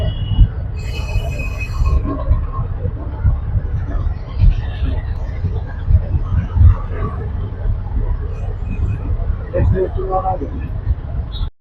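A train at a busy Mumbai railway station: wheels squeal sharply at the start, then a steady rolling rumble continues beneath a crowd's background chatter throughout.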